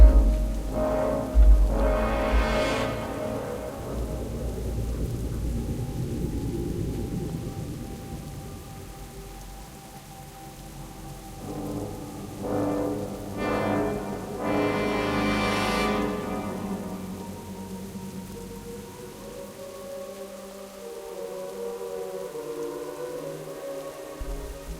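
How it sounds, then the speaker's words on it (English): Rain falls steadily in the Felwood zone of World of Warcraft, with low rolls of thunder rising and fading several times over the continuous downpour. No one speaks. "It's raining in Felwood."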